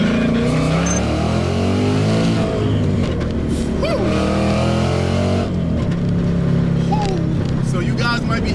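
A supercharged Ford Mustang GT with a Paxton supercharger revs hard and close, its engine roar rising and falling over about eight seconds, with voices faintly present alongside.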